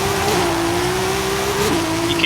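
Nissan 240SX drag tune with a swapped racing 2JZ engine in Forza Horizon 5, holding a steady, loud high-pitched drone that rises slightly near the end, heard alone without talk.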